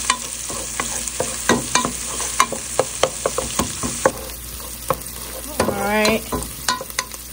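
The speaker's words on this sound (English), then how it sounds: "this pan is cooking up the onions really nicely" Onions frying in oil in a pan, sizzling with repeated sharp scraping and stirring clatters from a utensil, close and fairly loud; a brief spoken word comes near the end.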